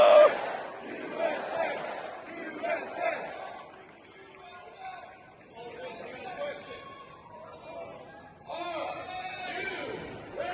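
A crowd at an Ole Miss game chanting the fight song, a distant swelling roar of many voices rising and falling in waves, with someone talking close over it.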